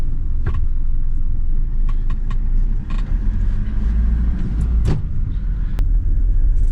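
A Fuso Canter 4x4 truck pulls away and drives, its engine a deep, steady low rumble inside the cab, with a few light clicks and knocks over the drone.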